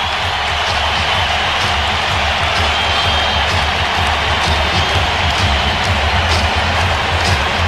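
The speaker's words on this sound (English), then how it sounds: "Listen to this crowd." Fans in a packed arena roar at a 1998 NBA playoff game, Utah Jazz at San Antonio Spurs, during a timeout. The loud crowd noise and cheering hold steady throughout, with a faint commentator's voice beneath it.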